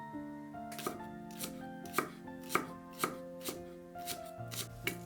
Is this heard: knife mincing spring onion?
yes